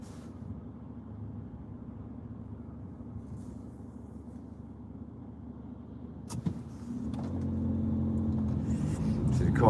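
Car with four people inside, rumbling steadily at close range, then growing louder and rougher near the end as it comes past.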